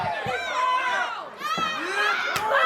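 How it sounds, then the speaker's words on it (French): A wrestling crowd at a JCW October Nightmare event cheers and shouts, with rising whoops and excited voices overlapping in short waves and a sharp thud partway through. "La foule en redemande encore et encore."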